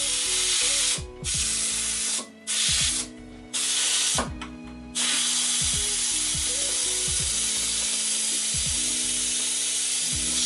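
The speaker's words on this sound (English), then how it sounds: "So we need to release that pressure now and get the dry hops in." Pressure vents from a Fermentasaurus fermenter holding about 10 psi of fermenting pale ale, a loud close hissing spray in several bursts that then settles into one continuous hiss, with faint clicks underneath.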